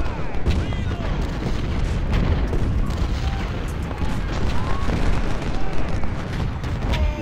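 Cannon fire in the Civil War strategy game Ultimate General: Civil War: dense, continuous rumbling booms and crackling artillery volleys, loud and overlapping throughout, with someone speaking German over the battle.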